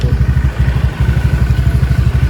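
Motorcycle engine idling through a WRC aftermarket knalpot exhaust, a close, loud, deep bassy throb with steady rapid pulsing and no talk.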